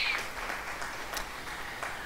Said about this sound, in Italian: A voi naturalmente faccio un bel applauso